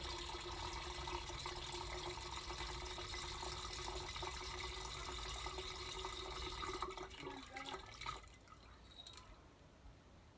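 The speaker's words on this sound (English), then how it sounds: "I'm going to pour the remaining contents back in the canister" Liquid poured from an old dug-up glass bottle back into a canister, a faint continuous trickling and splashing that tapers off into drips near the end, with no talk.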